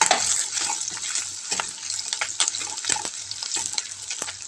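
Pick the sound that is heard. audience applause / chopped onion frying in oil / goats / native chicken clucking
chopped onion frying in oil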